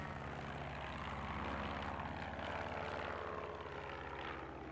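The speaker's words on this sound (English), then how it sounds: "Sorry, there's a plane up there." A propeller airplane drones overhead as a steady, continuous engine rumble with a low hum, holding constant loudness throughout, with no talk.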